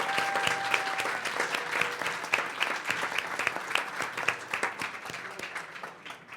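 A large audience at a startup and tech ecosystem event applauds steadily for several seconds, a dense wash of clapping with scattered sharp individual claps and a faint tone underneath.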